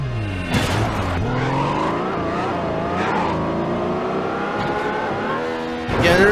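Cars race along a Los Angeles circuit in the Midnight Club 2 video game, a loud, continuous engine roar that climbs and shifts as gears change, with sharp revving bursts near the start and end.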